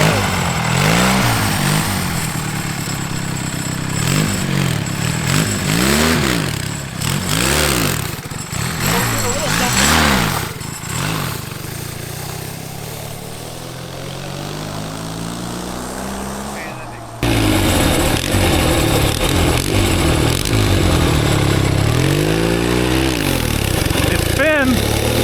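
A junkyard-built twin-cylinder mini bike engine with a four-speed transmission runs close by, revving up and down in repeated surges with a rough, buzzing drone, then settling to a steadier loud idle, with people talking over it.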